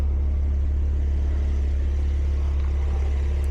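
Inside a V6 muscle car on the move, a steady low engine rumble and road drone hold at an even level throughout, with no talk.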